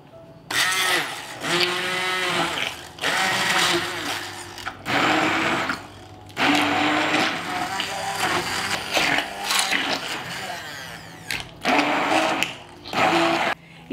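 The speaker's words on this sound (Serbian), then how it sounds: "i sve ću to izmiksati sa štapnim mikserom" An immersion stick blender whirs in repeated bursts through liver pâté mixed with melted butter, each pulse lasting a second or two with short pauses between, close and fairly loud.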